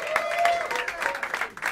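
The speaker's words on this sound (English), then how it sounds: "Have a round of applause for him." A jazz club audience claps and applauds steadily in a brief burst, dense overlapping claps with some voices mixed in.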